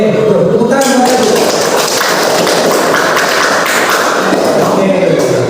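Applause in an Indonesian classroom during a teaching session on computational thinking: a dense, steady crowd of clapping hands fills the whole stretch at close range, with a few voices faintly mixed in.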